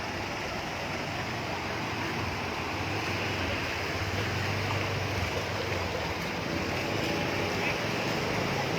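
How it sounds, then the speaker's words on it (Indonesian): Floodwater rushes through the town centre past a bus terminal, a loud, steady broadband roar of fast-flowing water with wind noise that continues without a break. "betapa derasnya air yang mengalir dengan kapasitas atau debit air yang terus bertambah"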